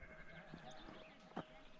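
Sheep bleating in the distance with one louder bleat near the end, set against a steady outdoor background hum, in Big Bend National Park.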